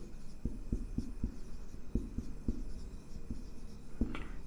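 Chalk tapping and scratching on a classroom board during a class 10 science lesson, a series of short regular knocks over a constant room hum.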